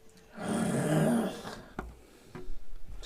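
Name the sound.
person imitating a creature growling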